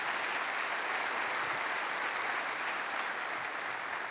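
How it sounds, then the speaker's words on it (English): Applause from a keynote audience at Sage Summit 2014, a dense, steady roar of clapping that holds loud and even for several seconds with no voices over it. "a warm round of applause for Emil."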